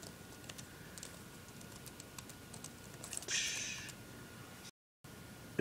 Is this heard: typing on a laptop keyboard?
yes